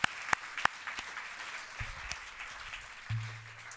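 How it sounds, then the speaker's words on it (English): Scattered claps from a conference audience marking a team member's birthday, faint and a little distant, with a few sharp slaps over a low murmur. "So if you could give her a bit of a clap."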